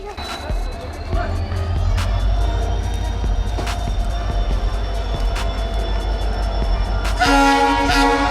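A train pulls out of Lataguri station with a steady, loud rumble and clatter of wagons, and a sharp horn blast sounds near the end.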